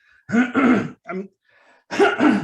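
A person with a lingering cold clears their throat in a few short, harsh bursts with brief gaps between them, close and fairly loud.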